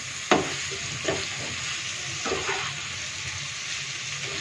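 Chicken liver frying in masala on a tawa, a steady close sizzle with a few scraping stirs of the spatula near the start and middle.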